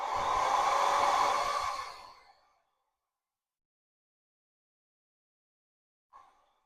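A hair dryer blows on wet watercolor paint for about two seconds, a close rushing whoosh that winds down into silence, followed by a brief faint sound near the end.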